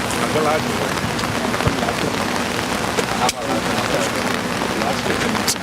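Steady rain falls on and around a microphone held out in the open at an outdoor school football match, a dense continuous patter with occasional louder drops, while voices talk nearby.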